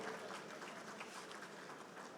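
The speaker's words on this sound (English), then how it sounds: "please a round of applause for her as she comes up" Audience applause at an engineering conference technical session as a speaker comes up to the stage, heard as a faint, distant, steady patter of many hands clapping.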